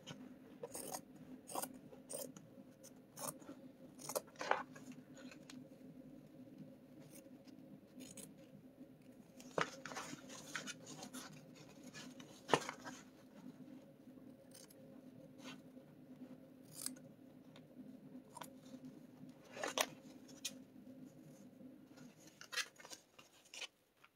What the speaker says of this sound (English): Oh, these scissors are horrible.